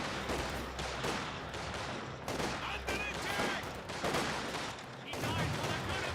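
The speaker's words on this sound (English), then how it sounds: "Mortar strikes the squad here." Mortar strikes and dense gunfire crackle on and on in Company of Heroes 2, with repeated bursts and thumps piling over one another and a voice talking faintly underneath.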